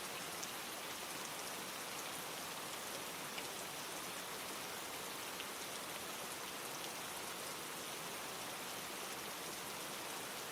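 Steady rain falls in an even, soft hiss that holds constant throughout with no voices or other sounds, quiet and uniform.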